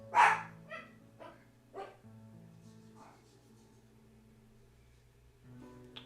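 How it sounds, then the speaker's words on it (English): Dogs bark at a passing truck indoors, a few sharp loud barks at the start followed by smaller yips that fade, with a steady low hum underneath and a brief rustle at the end. "Truck drives by and the dogs lose their mind."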